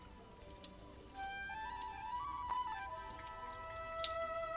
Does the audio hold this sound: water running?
yes